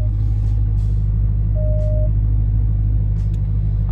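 Deep steady idle rumble of a 2021 widebody Dodge Charger engine as the car backs up, heard close and loud, with a few faint clicks and a brief tone over the low drone.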